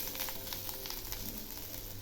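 Spices sizzle steadily in a hot pan for fish pulao, giving an even, close crackling hiss with small pops and no talking.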